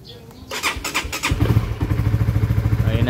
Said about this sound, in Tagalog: Tapos i-start na natin yung motor.